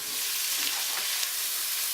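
Garlic and other paella ingredients sear in a paella pan, giving a steady, loud, close sizzle that holds evenly throughout with no voices.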